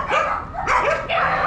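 A dog barks repeatedly in short, loud bursts at an outdoor market in Tuschen, Guyana, the yelps coming close and sharp with brief gaps between them.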